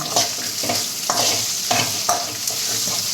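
Crushed ginger and onion sauté in a hot pan, a steady sizzle broken by periodic scrapes and stirring strokes of a utensil, close and fairly loud.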